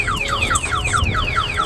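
A Compustar-protected car's alarm wails in a steady loop of rising sweeps, loud and close, with no talk over it.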